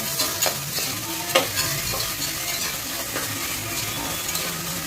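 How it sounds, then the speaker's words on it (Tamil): Onions frying in hot oil with crushed spices and rock salt, a dense continuous sizzle close by, with occasional clinks and scrapes of a stirring spoon. "இப்போ இது நல்லா ஃப்ரை ஆகட்டும்"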